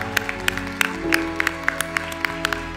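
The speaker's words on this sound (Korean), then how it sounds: "우리 하나님께 영광의 박수 돌리겠습니다." Church congregation applauding at the close of a year-end worship service, a sparse, short burst of clapping heard over a sustained organ or keyboard tone.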